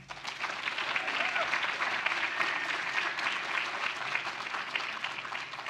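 An audience claps steadily to welcome a guest lecturer at an evening talk on childhood brain development, a dense, even wash of applause lasting throughout with no break.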